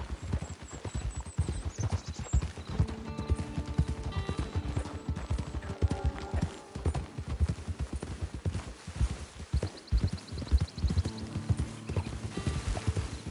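Horse hooves clip-clop steadily at a trot in the Red Dead Redemption online game, with occasional whinnies, distant gunfire and scattered game sounds layered over the rhythmic footfalls.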